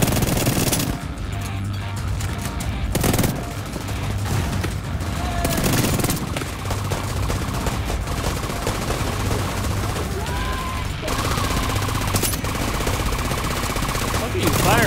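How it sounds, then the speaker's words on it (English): Gunfire in The Division 2 during an open beta session: dense, sustained bursts of automatic weapon fire crackling almost continuously, loud and close, with players talking over the shooting. "Yeah, the gun sounds fucking dope."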